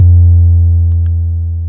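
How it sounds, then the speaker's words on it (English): A single deep kick drum hit from an Arturia DrumBrute drum machine, pitch and decay fully up, with a long, booming tail that slowly fades, heard alone. "I already recorded the kick drum into Ableton and it sounds like this"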